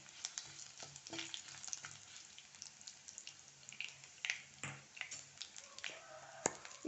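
Six or seven whole garlic cloves fry in a pan for moringa dal, giving a soft, steady crackle with scattered sharper pops and a few louder spits near the end.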